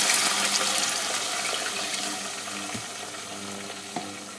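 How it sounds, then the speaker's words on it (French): A glass of water poured over sautéed onions in a pan makes a loud, continuous hissing wash of sizzle that slowly fades, with faint stirring clinks near the end. "Je rajoute un verre d'eau."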